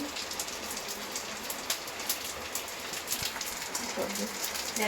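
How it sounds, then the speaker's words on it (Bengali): Steady rain falling on surfaces on an autumn evening, a soft continuous patter with scattered distinct drops, fairly faint and even throughout. "বোঝা যাচ্ছে বৃষ্টি পড়ছে সেটা বোঝা যাচ্ছে"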